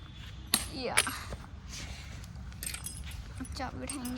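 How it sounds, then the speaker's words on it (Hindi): Keys jangle and clink as they are picked up, two sharp metallic chinks followed by lighter rattling, close by over background chatter and street noise. "अब चाबी उठाएंगे हम, चाबी लगा के फटाफट निकले हम।"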